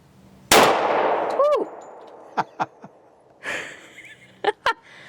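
A 1911 pistol fires one loud, close gunshot that rings out and decays over about a second at an outdoor range. Several sharp metallic clinks and brief sounds follow, with a few quieter voiced breaths between them.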